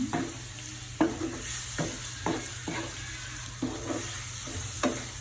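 Chicken pieces with a chicken cube stirred in a pot for tinola, a soft sizzle under regular spoon scrapes and knocks about every second, close up with no talking.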